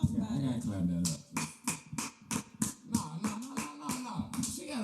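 A run of sharp hand claps, about a dozen quick strikes in an uneven rhythm, close and loud over a low voice humming or speaking underneath.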